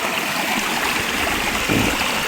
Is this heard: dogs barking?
no